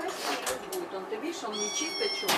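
A cat meows a few times, drawn-out and nearby, while people talk softly over it.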